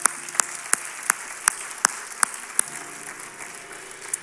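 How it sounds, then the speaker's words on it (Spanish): A church congregation at an evangelical service claps together in a loose, steady rhythm, with sharp individual claps standing out over a broad wash of applause. "Denle un fuerte aplauso al Señor en esta hora."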